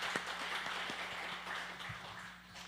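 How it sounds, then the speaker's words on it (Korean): A church congregation applauds its volunteers during a Sunday morning service, a fairly faint, diffuse wash of many hands clapping steadily throughout, sounding distant within the sanctuary. "그분들을 위해서 박수 한번 할까요?"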